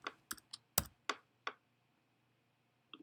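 Keys tapped on a computer keyboard for a quadratic regression entry, a quick burst of about six crisp clicks followed by a pause and one last soft tap, close and alone.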